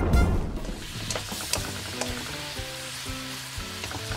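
Shimeji mushrooms sizzling in a hot pan during a stir-fry, a close, steady frying hiss with occasional stirring clatter and no talking.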